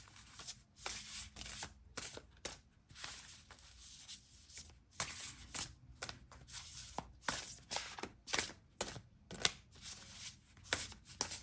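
Tarot cards shuffled by hand, with repeated crisp riffles and papery flutters in irregular bursts separated by short pauses, close and fairly quiet.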